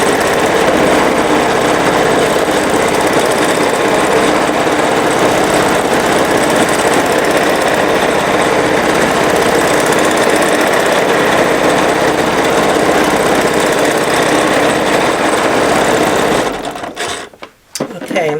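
A Baby Lock Jazz 2 sewing machine runs steadily for about sixteen seconds while free-motion quilting leaf shapes, a loud continuous mechanical whir that cuts off near the end.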